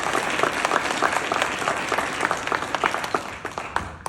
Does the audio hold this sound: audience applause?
yes